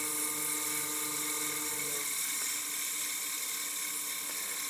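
A wood lathe spins a turned coin box while it is sanded with 240-grit paper: a steady, high motor whine whose pitch drops partway through as the speed is turned down, with a faint hiss underneath.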